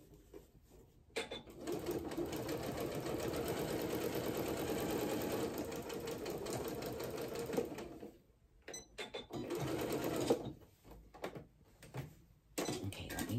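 A sewing machine stitches pajama pants with a back stitch, running in long steady bursts with brief pauses between seams, close and loud with no talking.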